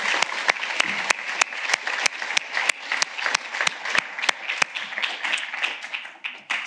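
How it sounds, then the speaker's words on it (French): An audience applauds two colleagues at the opening session of a 2025 conference, a dense wash of clapping with sharp individual claps standing out, steady throughout and tapering slightly at the end. "Je vous propose donc d'applaudir très chaleureusement nos deux collègues"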